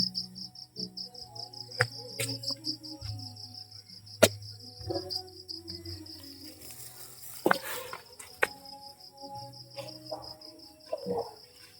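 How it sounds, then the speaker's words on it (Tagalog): Crickets chirp steadily at night in a quiet rural setting, with a continuous high-pitched trill running throughout and occasional soft clicks and low background noises beneath. "tahimik ang paligid, mga tinig na lang ng kuliglig yung maririnig natin"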